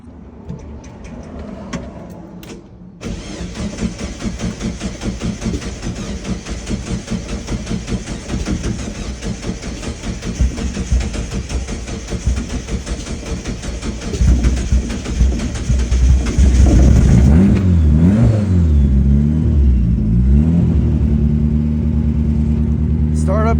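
A turbocharged Mazda Miata running on E85 ethanol cranks for a long stretch before catching, then its engine rises into loud, rough revving. The sound is close and builds in intensity toward the end.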